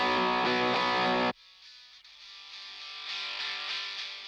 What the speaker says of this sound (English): This is just a good way to cut some of that ugly fizz out of guitars